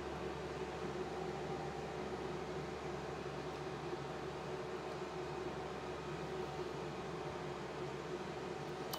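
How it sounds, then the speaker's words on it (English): An air extractor fan for an Xtool F1 Ultra laser engraver runs with a steady, even whir and hum. It is faint and constant throughout, with no change in pitch. "I'm turning on my air extractor there."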